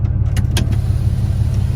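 The power rear window of a Ram Megacab diesel truck opens with a steady low electric motor hum close by. A few faint clicks sit on top of the hum and no one speaks.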